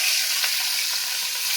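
Rui fish belly pieces frying in hot oil for a Bengali fish curry, a steady, close, loud sizzle with bubbling crackle that runs throughout, with no talking.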